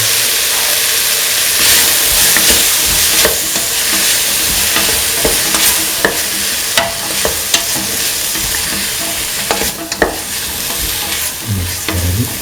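Tomato pieces frying in a pan, with a loud continuous sizzle, close up, and frequent stirring scrapes and clinks throughout.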